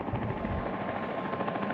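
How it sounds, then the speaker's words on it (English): A helicopter drones steadily nearby on the Hardergrat ridge, its deep rotor thump and engine roar filling the scene without a break. "Just noticed there's a helicopter down here."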